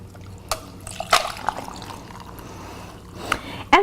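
Strawberry-flavored water is poured from a pitcher over ice in a glass, with scattered splashes, drips and sharp clinks of ice, fairly close and fairly quiet.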